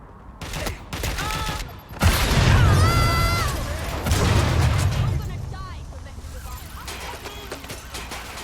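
Gunfire in the game Watch Dogs Legion: loud bursts of shots and impacts dominate the middle stretch, with shouted voices and in-game dialogue over and between the firing.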